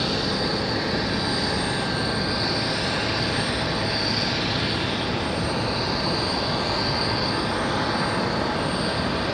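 Southwest Boeing 737-8 MAX jetliner departing Raleigh-Durham International Airport, a steady, loud broadband engine roar holding constant throughout with no speech.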